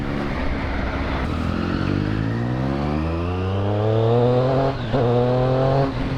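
Triumph Street Triple 675R motorcycle accelerating hard through the gears, its engine note climbing steadily in pitch, loud and close with a brief dip near the end before pulling again.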